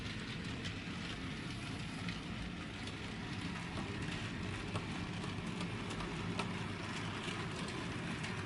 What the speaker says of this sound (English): the train should be able to run straight onto the cartridge